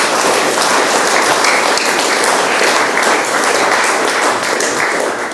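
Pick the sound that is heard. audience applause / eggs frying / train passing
audience applause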